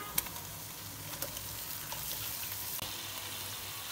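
Mutton liver (kaleji) hits a pan of softened onions and sizzles steadily, close up, with a few clinks and stirring scrapes, no talking.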